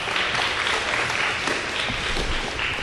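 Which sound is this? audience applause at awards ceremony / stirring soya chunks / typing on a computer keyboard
audience applause at awards ceremony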